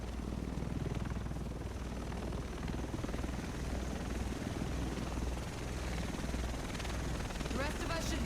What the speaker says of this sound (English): Well, technically, that's not a chopper. That's an Osprey B-22.